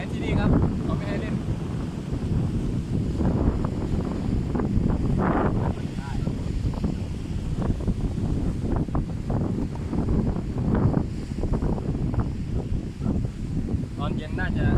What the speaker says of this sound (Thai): ดูกันว่าคลื่นแรงขนาดไหนที่นี่ครับเขาไม่ให้เล่น